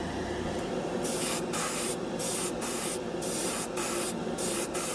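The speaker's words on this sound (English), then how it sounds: "It's cool that I'm spraying it directly out of the bottle" A $20 Harbor Freight dual action airbrush, run from an air compressor, sprays paint for scale models in a series of about eight short, loud hissing bursts over a steady background hiss.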